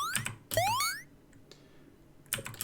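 Short bright chiming blips like a video game coin pickup, rising pitch, a few separate bursts mixed with soft clicks, close and clean.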